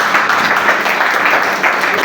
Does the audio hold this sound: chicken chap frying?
no